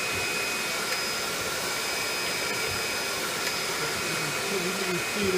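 A small vacuum cleaner runs steadily during spring cleaning of a workshop, a constant airy whine with faint tonal hums above it, moderately close and unbroken for the whole stretch.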